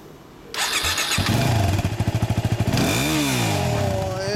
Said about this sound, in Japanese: ごめんエンジン音聞かして